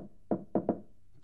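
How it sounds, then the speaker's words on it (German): Knocking on a door in a German-language radio play: three crisp, close knocks, the last two in quick succession, over a faint, quiet background. "klopft es auch schon an die Tür."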